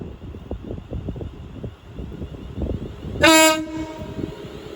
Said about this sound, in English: Slowly making our way through now will be Avanti West Coast, so it's running back 17 minutes late from Edinburgh to London Euston